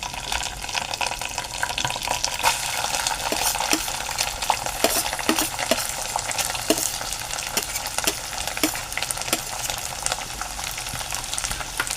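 Curry leaves and ground masala paste hit hot oil in a pan for tomato vada, giving a bright continuous crackling sizzle with small pops and occasional stirring clicks, close up and steady throughout.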